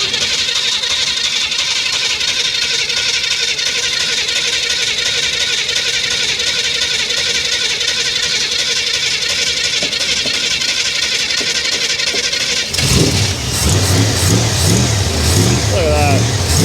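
A car engine cranks with a long, steady whirring starter drone, then catches near the end and fires into a rough, loud idle with revving, heard up close alongside voices.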